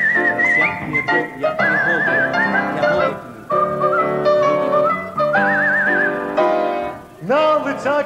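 A sustained whistled tune runs through several melodic phrases with wavering vibrato, close and clear, with a short rising flourish near the end.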